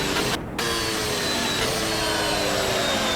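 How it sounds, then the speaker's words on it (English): A 2021 Formula 1 car engine in the Assetto Corsa racing game drones at high revs, with a brief audio dropout near the start where the sound cuts out before resuming. "You heard that audio stutter there."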